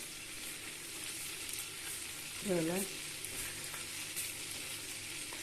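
Food fries in melted butter in a pan, a steady soft sizzle and crackle that continues throughout, with a brief spoken word partway through.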